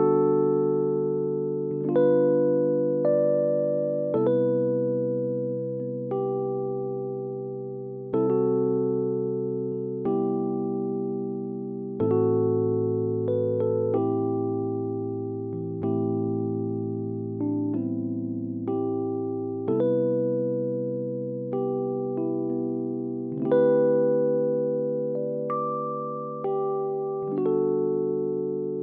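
Solo piano plays a chord progression, sustained chords and melody notes struck every couple of seconds with gentle decay, clear and close with no talking.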